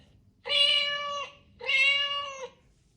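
Two clear cat meows in a row, each drawn-out and tonal with a short gap between, close and fairly loud over a quiet background.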